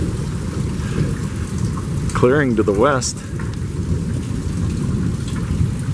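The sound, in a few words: tornado rumbling with rain and thunder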